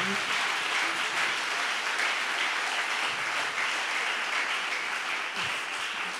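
A church congregation at a thanksgiving service applauds steadily, a dense, sustained wash of many hands clapping at close range, fairly loud, with no pauses and no voices rising above it.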